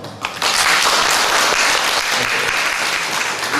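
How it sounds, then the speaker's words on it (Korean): A church congregation breaks into applause, a dense, loud clapping that starts abruptly and holds steady for several seconds in a large room. "박수할까요?"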